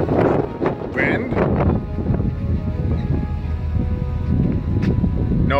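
Wind buffeting a microphone on an open ferry deck with mountains nearby, a steady low rumble with gusty swells throughout and brief voice sounds near the start.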